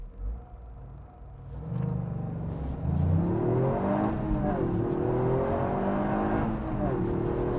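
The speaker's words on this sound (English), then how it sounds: "I'm going to back off from this car and do a bit of a 0 to 60, shall we?" A Toyota GR car accelerates from 0 to 60 from inside the cabin, the engine note climbing steadily through several gear changes as a low rumble and rising whine build, with a voice briefly heard early on.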